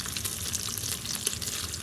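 Slices fry in a very hot pan for an Instant Pot red beans and rice dish, giving a close, continuous crackling sizzle with small irregular pops throughout.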